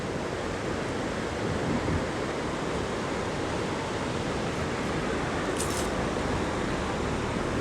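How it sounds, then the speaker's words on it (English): The Tiber River flowing through Rome, a steady broadband rush of moving water close to the microphone, constant throughout with some wind noise and a brief faint hiss near the end. "The Tiber River running through Rome."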